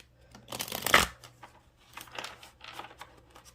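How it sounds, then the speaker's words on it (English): Playing cards being shuffled close by, a sharp riffle burst followed by softer, scattered flicks and shuffling rustles; no talking. "I am going to shuffle some cards"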